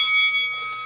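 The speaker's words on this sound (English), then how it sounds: "You getting tired of that bell" A single bright bell strike rings out close and loud, its clear metallic tones sustaining and slowly decaying over about a second, alone without speech.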